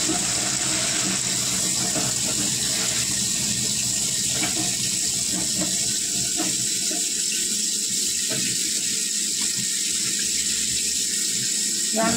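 Kitchen tap running steadily while dishes are washed at a home sink, a continuous close hiss of flowing water with faint clinks of utensils throughout.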